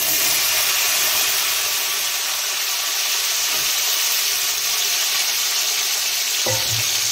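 Onions sautéing in a hot pan for chicken chukka, a loud continuous sizzle and hiss with a brief stirring clatter near the end.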